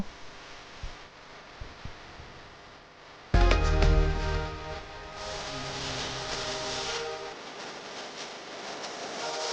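Soybean chunks fry in hot oil in a wok over medium heat, the sizzle bursting in loudly partway through as they hit the oil and then holding as a steady, crackling hiss.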